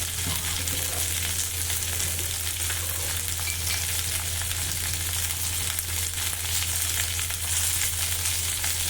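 Taro pieces with a little turmeric cook in oil, giving a dense, even sizzle that holds steady for the whole stretch, with faint stirring beneath and a low steady hum.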